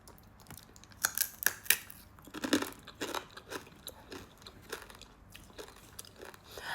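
Crispy spicy fried baby crab is bitten and crunched close to the mic, with a few sharp loud crunches followed by softer irregular chewing crackles.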